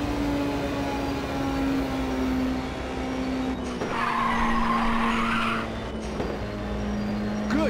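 Tires squeal in a long, loud drift as a race car powers through a corner in Ridge Racer on PSP, the steady engine drone running underneath, with a brighter burst of skidding midway through.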